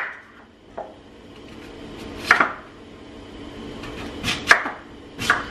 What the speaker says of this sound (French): je vais juste couper mes patates douces en morceaux juste pour faciliter la cuisson